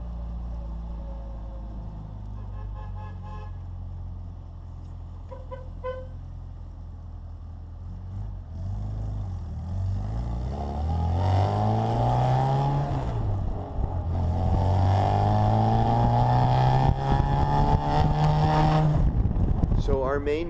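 A Bugeye Sprite with brand-new SU carbs and K&N air filters idles, then revs up repeatedly with rising pitch, the engine note growing louder and held near the end; a voice talks early on.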